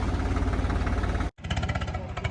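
A tractor engine arrives to tow a stuck, potato-laden trolley out of a wet field: steady, close, loud diesel chugging with a sharp cut to silence and then resuming rhythmic throbbing.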